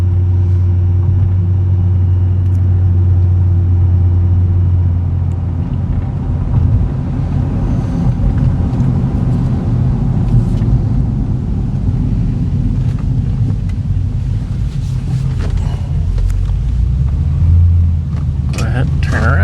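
A 2009 Cadillac CTS-V engine, a salvage car, rumbles with a deep steady drone that shifts and builds in pitch as it accelerates under partial throttle, loud and close inside the cabin.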